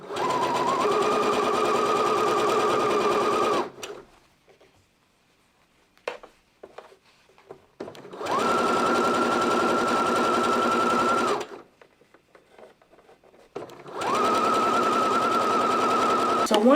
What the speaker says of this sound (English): and then sewing straight down again